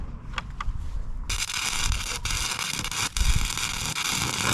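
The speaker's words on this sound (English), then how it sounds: "Let's weld this together." Arc welding scrap steel pieces together for a pellet gun target produces a loud, continuous crackling hiss that starts abruptly after a moment of quiet and runs steadily with brief dropouts.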